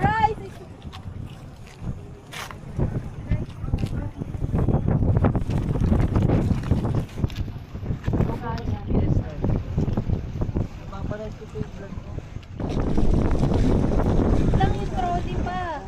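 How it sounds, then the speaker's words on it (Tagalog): Steady rumble of a boat motoring over water with wind buffeting the microphone, continuous and loud throughout. "Sakay na kami bangka."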